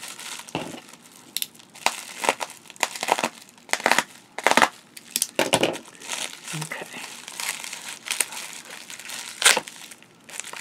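Bubble wrap packing around fountain pen nibs crinkles and crackles as it is unwrapped and handled, with close, irregular rustling bursts and sharp crumples throughout, and no talk.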